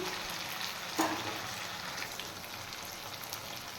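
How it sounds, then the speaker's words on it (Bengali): Tomatoes stirred and fried in a pan for a rohu fish curry: a soft, continuous sizzle with one brief clink of the utensil, quiet and close, with no voices. "টমেটো দিয়ে দিলাম টমেটো দিয়ে একটু নাড়াচাড়া করে"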